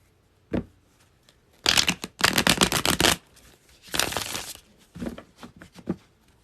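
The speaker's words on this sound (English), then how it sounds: "I'm shuffling again. I'm getting the same damn cards." Tarot cards are shuffled in several crisp bursts of riffling and flicking, close and clear, separated by brief quiet gaps and soft handling taps.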